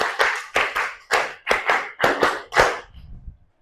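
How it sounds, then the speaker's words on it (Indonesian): An Indonesian grade 8 science class claps hands in counted patterns, sharp crisp claps grouped in rising numbers with brief pauses between groups, close and clear, ending in quiet. "Tepuk 1, tepuk 2, tepuk 3, tepuk 4, tepuk 5."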